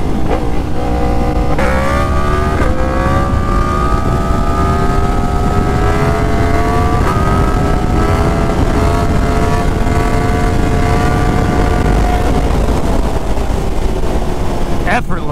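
A Yamaha FZ10 motorcycle engine pulls hard and close, its pitch climbing through sustained acceleration with a few shifts, loud and continuous for about fifteen seconds.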